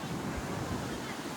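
Ocean surf rolling onto a beach, a steady broadband wash of breaking waves mixed with gusting wind across the microphone, continuous and fairly close throughout.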